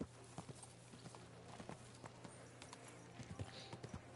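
Horse hooves clip-clop at a steady walking rhythm in Kingdom Come Deliverance 2, moderately close, with a low background hum and scattered game sounds.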